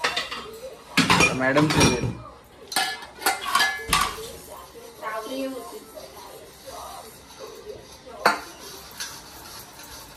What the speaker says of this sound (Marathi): आता मॅडम भांडी घासतायत.